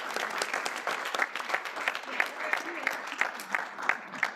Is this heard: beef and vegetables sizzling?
no